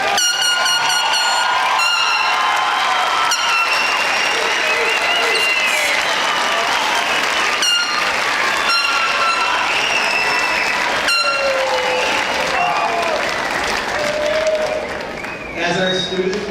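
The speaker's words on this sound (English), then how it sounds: "a huge round of applause for the entire" Sustained applause fills a school gym at an eighth grade promotion ceremony, a dense wash of clapping from the crowd with scattered whoops and air horn blasts cutting through, holding steady before easing slightly near the end.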